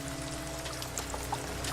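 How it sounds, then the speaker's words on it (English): Rain pouring and splashing into water in the video game No Man's Sky, heard from underground: a steady trickling, splashing patter with scattered brighter drips over a low constant hum. "I hear what sounds like stuff's falling and splashing into the water"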